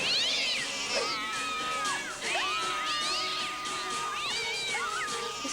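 A cat meows repeatedly, loud and close, with several drawn-out rising and falling calls in quick succession.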